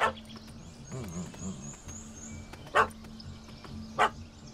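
A dog barks a few times in The Witcher 3: Hearts of Stone, two sharp, loud yelps standing out clearly, with a short run of bird-like chirps and low background hum between them.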